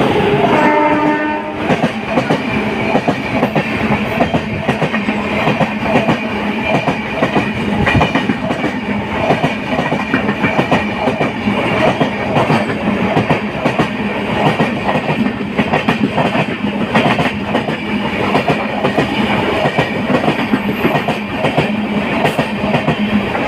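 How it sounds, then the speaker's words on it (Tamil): The Kerala Superfast Express, train 12626, rumbles past Chowara railway station in Kerala at close range with continuous rhythmic clattering of wheels over rail joints, a brief horn blast at the start, loud throughout. "நம்ம Don Kerala super fast express வராரு."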